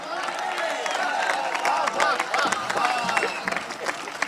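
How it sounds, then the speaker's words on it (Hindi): A crowd at a talk on Sanatan Dharma gives scattered, moderate applause mixed with murmuring voices and a few louder claps, continuing for several seconds. "आपकी तालियां कमजोर है मेरे भाई।"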